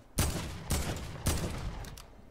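AK assault rifle firing in Fortnite, three sharp, loud shot bursts spaced about half a second apart, each with a short decaying tail, heard clearly without talk.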